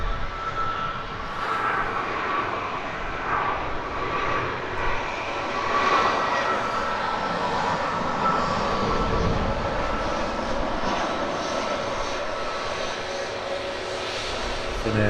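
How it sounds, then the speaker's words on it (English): An airliner taxis close by at Edinburgh Airport, its engines giving a steady, loud roar that holds throughout, with faint voices in the background. "they're touching down in the background as we watch this nice close taxi"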